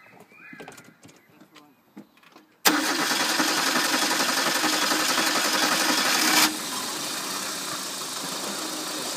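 A car engine cranks and catches after its fuel pump fuse has been pulled, running on fumes. It bursts in loud and steady after a few faint knocks, then idles at a lower level.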